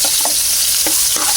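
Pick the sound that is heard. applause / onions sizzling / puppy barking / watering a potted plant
onions sizzling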